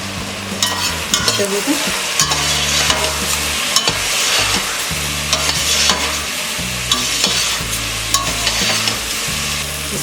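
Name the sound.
coriander powder and garam masala stirred and frying in pulao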